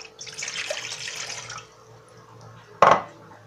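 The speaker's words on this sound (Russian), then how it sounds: "Выливаем воду" Water pours steadily into a bowl for yeast dough, a close, splashing stream lasting over a second before it tapers off, followed by a sharp knock of the container being set down.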